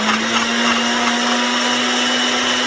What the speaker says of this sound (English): put in my garlic, put the lid on, and I'm just going to pulse this a little bit